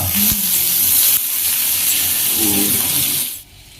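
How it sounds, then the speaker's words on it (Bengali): Bitter gourd and drumstick pieces fry in a pan with a loud, close sizzle and hiss, a brief clatter near the start and stirring sounds later, before the sizzle drops away sharply at the end with no talking. "আর যে উচ্ছেগুলো আমার ভাজা হচ্ছে"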